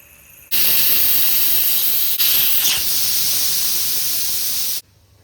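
A loud, steady hiss of steam rushing out of a pressure cooker whistle, lasting several seconds before cutting off abruptly.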